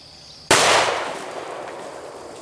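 A single 10mm pistol shot fired at water jugs outdoors: one sharp, loud crack with a fading echo trailing off, no talking.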